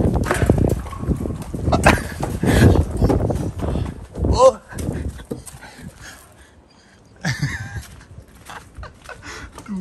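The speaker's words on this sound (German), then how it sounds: "kleiner Hund." A small dog pants and whimpers in short bursts, close by, mixed in with frequent people talking and laughing, with a brief quieter stretch before the voices and movement return.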